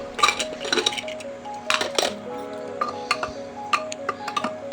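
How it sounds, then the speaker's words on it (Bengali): Metallic clinks and taps as a spoon lifts the weight off a pressure cooker and the lid is opened, a scattered series of close ringing knocks over a low background hum, no talking. "প্রেশারের মুখটা একটু চামচের সাহায্যে বা হাতার সাহায্যে একটু উঠিয়ে নিয়ে তারপর খুলবো"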